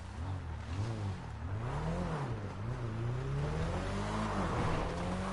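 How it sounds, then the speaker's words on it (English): A car engine in the GTA 5 video game, heard from inside the cabin, drones and revs up and down through the gears, steady and fairly close with no talking. "It does sound a lot better inside the car."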